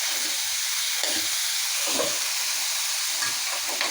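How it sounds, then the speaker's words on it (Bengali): Bottle gourd greens frying with prawns in a pan, a constant loud sizzle and hiss punctuated by a few soft stirring scrapes. "এখন আমি দিয়ে দিচ্ছি শাক"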